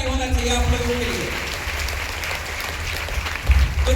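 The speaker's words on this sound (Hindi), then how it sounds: "जोरदार ताली होना चाहिए आप लोगों के लिए" Applause from a meeting audience, a broad wash of clapping that is dense at the start, thins slightly through the middle and swells again near the end.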